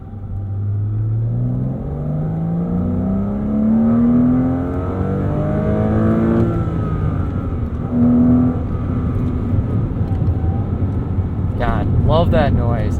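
A 2005 Porsche Boxster S with manual gearbox revs up hard, its engine note climbing and falling through several sweeping rises, loud and close, with voices talking over the sound.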